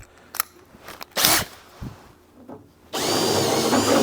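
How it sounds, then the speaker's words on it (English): Power drill boring a hole with a bit slightly larger than 1/4 inch, a steady close whirring grind that starts after a few clicks and handling noises and runs continuously to the end. "And now we'll go out to the one to the slightly larger than 1/4 inch bit."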